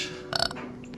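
A short, close burp from a person, a single brief guttural burst in a quiet indoor room.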